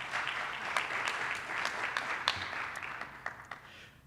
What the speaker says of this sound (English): special round of applause for them